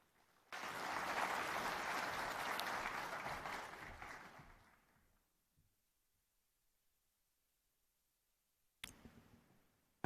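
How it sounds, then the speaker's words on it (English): An audience at the ID for Africa conference in Nairobi bursts into applause that holds for about four seconds and then fades out. Silence follows, broken only by a few faint clicks near the end. "Another round of applause for Executive Chairman."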